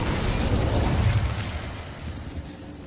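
A fiery blast from the Incendio fire spell in Hogwarts Legacy, a loud, broad rushing burst that holds strong for about two seconds and then slowly fades, with no talking.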